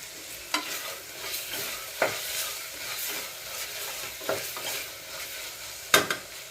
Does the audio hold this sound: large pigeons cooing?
no